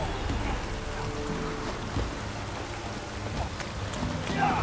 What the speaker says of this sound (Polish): Może przestanie padać?